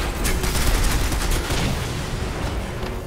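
A turret in the video game Crysis 3 opens fire, a dense burst of rapid gunfire crackling continuously and loudly throughout with a booming low rumble beneath.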